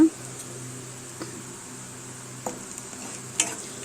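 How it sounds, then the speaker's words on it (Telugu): Finely chopped onions and green chillies fry in a pan for a prawn curry, giving a low, steady sizzle under a faint fan hum, broken by a few soft clinks and scrapes of a stirring spoon. "సన్నగా తరిగి పెట్టుకున్న ఉల్లిపాయలు పచ్చిమిరకాయలు అయితే వేస్తున్నాను అవి కూడా దోరగా వేగనివ్వాలి"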